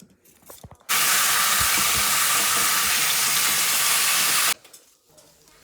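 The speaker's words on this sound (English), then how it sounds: "After giving the greens a good wash" Greens washed under a running kitchen tap: a loud, steady rush of water that starts abruptly, holds for about four seconds and cuts off, with quiet handling noises before and after.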